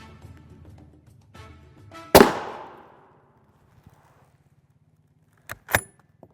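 A single loud gunshot cracks against a Soloman NIJ Level IV RF3 armor plate, with a sharp close report and a short decaying ring, followed a few seconds later by a couple of quick impact sounds.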